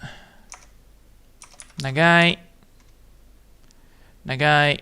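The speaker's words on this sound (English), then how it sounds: "I can actually put it down and then type in Nagai" A computer keyboard is typed on in short bursts of light clicks between stretches of someone talking.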